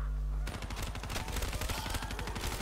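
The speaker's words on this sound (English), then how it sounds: "The best light machine gun in the game" A light machine gun fires in the Kino der Toten zombies mode, a sharp rapid burst of close, loud automatic shots that starts abruptly after a low hum and continues without a break.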